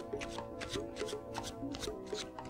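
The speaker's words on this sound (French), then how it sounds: "Ça, c'est ce qu'on appelle un mélange à la française." A deck of playing cards riffled in a French shuffle by a magician, a run of five or six quick papery riffles in a steady rhythm, close and clear with no talking.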